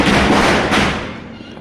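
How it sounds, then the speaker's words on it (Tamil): A loud burst of Deepavali firecrackers booms nearby and fades over about a second and a half, with a brief second crack partway through, under faint background voices. "இது தீபாவளின்றதுனால கொஞ்சம் பட்டாசு சவுண்ட்லாம் கேட்கும்."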